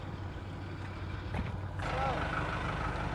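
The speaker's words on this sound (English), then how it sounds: "Car done absolute mustard pulling this up here." At a large car show, a car rolls up with a low engine idle that steps up into a fuller, louder rumble partway through, amid background crowd noise.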